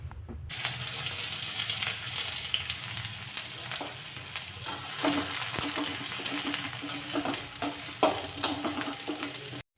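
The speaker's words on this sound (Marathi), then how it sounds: "कढईमध्ये फक्त एक चमचाभर तेल मी ठेवलेलं आहे आणि त्यामध्ये घालायचं आहे सगळ्यात अगोदर कांदा" Onion sizzles and fries in hot oil in a wok, a steady bright crackle with occasional scraping stirs, close and continuous without speech.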